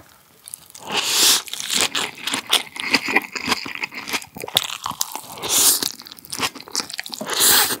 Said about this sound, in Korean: 샐러드 먼저 먹어볼게요.